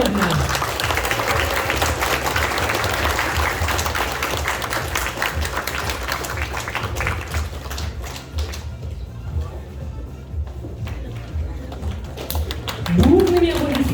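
An audience and graduates applaud at a college diploma ceremony for communications and energy students, steady clapping over low rumbling background that thins out midway, with voices present in the room.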